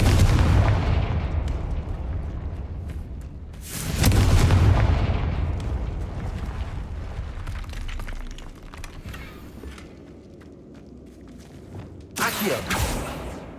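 Confringo fire spells blast in the video game Hogwarts Legacy, two loud booming bursts a few seconds apart over a dense, busy game soundscape of rumbling combat noise.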